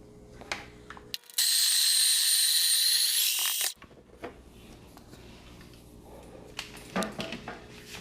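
Breville Barista Pro built-in grinder grinding coffee beans at a fine setting, a loud high whirring burst lasting about two and a half seconds, surrounded by quieter clicks and handling noises of the espresso machine.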